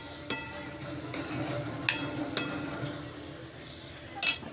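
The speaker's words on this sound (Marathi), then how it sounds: "हे असं एकत्र सगळं ढवळून घ्यायचं आहे." A spoon stirring a jackfruit vegetable mixture sizzling in a pan, with a soft frying hiss under occasional sharp clinks of utensil against the pan, close and without talk.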